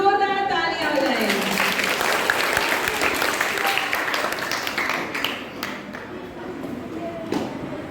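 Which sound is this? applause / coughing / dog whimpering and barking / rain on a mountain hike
applause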